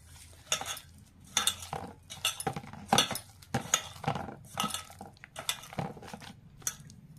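Vada batter made from split moong dal and chana dal being stirred and mixed by hand in a bowl, a quiet series of irregular wet slaps and scraping knocks about once a second, close up with no talking.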